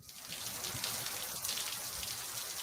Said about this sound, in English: It's supposed to be a thunderstorm